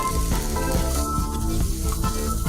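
Wild salmon fries in a pan with a loud, close, steady sizzle that holds without a break over the short stretch, with no talking.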